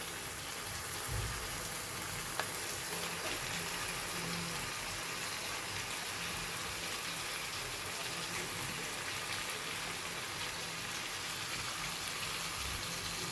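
Pigeon meat goes into fried spice paste in a home kitchen and sizzles, a steady, fairly loud broadband crackle and hiss that continues evenly throughout with no talking.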